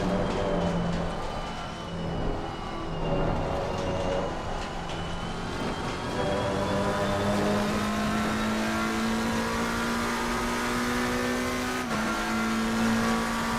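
A GT race car in Assetto Corsa Competizione at Silverstone, heard from the cockpit: engine note climbs steadily through the gears under acceleration, dips on a downshift and braking around twelve seconds, then pulls again, loud and continuous with no talk.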